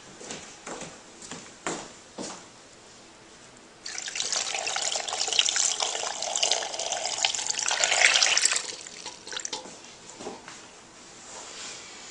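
A kitchen tap runs into a pan for about five seconds with a loud, steady rush of water, between quieter drips and handling clicks before and after.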